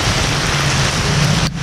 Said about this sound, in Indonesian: Hujan lebat sekali.